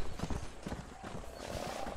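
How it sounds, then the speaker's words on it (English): A startled horse in the Red Dead Redemption video game clatters its hooves in a brief burst, with a possible whinny and game noise around it. "Your horse got freaked out."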